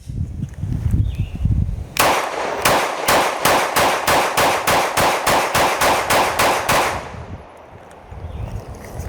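A rapid string of about fourteen evenly spaced 9mm pistol shots from a Glock Gen 3 compatible Strike Industries light slide, loud and close, fired one after another over several seconds with quiet before and after.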